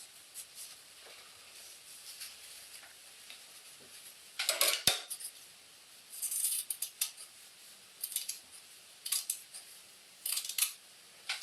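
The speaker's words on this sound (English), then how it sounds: "And now I'm going to trim down this flappy bit that's left over." Scissors snip through the leftover fabric edge of a sewn Charlotte dress after stitching, several crisp close cuts in short irregular bursts with small rustles between them in a quiet room.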